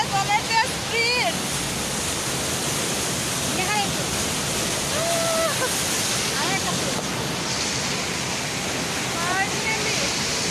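Fast water pours down a waterfall at Unakoti in a loud, steady broadband roar that fills the whole stretch, with a few brief high chirping sounds rising over it.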